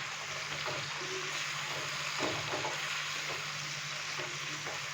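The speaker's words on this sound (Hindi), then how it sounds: "मीडियम फ्लेम पे अभी हम इसको 8 से 10 मिनट अच्छे से भून लेंगे" Beef pieces with turmeric, coriander and red chili powder fry on medium flame for aloo gosht, a soft, steady sizzle with a few faint stirring scrapes, heard up close and quiet.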